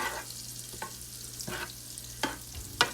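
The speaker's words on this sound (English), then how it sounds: "we're wanting to sear the meat" Meat sears in oil and butter in a pan over medium-high heat, a close, soft, steady sizzle with a few sharp scrapes and clicks of a utensil.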